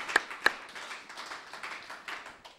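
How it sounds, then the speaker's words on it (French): A church congregation claps during a prayer service: two sharp, distinct claps ring out early, then softer scattered taps follow, all fairly faint and distant. "Clap the Lord."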